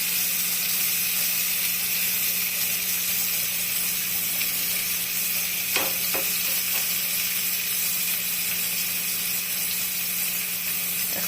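Eggplant pieces fry in oil in a frying pan for a ridge gourd and eggplant poppy-seed dish, giving a steady, close sizzle with a constant hiss and a couple of brief scraping or stirring clicks midway.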